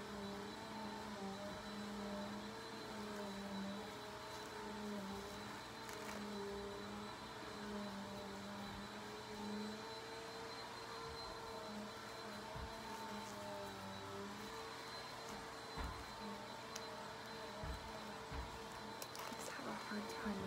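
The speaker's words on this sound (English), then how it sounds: "Sister's vacuuming" A vacuum cleaner runs steadily in the background at a hospital or clinic bedside during a catheter insertion, a continuous droning hum with faint speech mixed in throughout.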